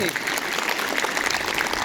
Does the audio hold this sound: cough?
no